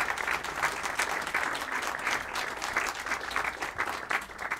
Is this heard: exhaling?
no